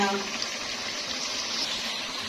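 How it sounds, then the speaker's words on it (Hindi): Water pours into a cooking pot of chicken nihari, a steady broadband gush lasting a couple of seconds at even loudness, close by and alone. "तो अब यहाँ पे मैं इसमें पानी ऐड करूँगी।"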